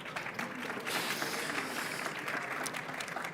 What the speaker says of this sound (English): I think we can give them a warm welcome round of applause.